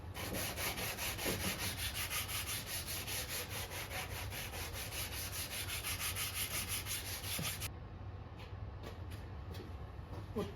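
Fine sandpaper rubbed by hand gives steady, rhythmic back-and-forth strokes, close and moderately loud, for several seconds before stopping abruptly.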